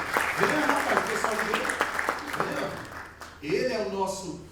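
An audience applauds steadily while a voice talks over the clapping, which swells again near the end.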